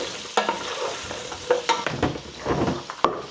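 Onions stirred into hot garam masala in a pan for a Sylheti-style potato curry, with a steady sizzle broken by repeated scraping and clattering stirs. No voices are heard.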